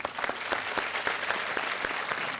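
Steady, dense applause from a studio audience on a TV quiz show, loud and continuous throughout with no break.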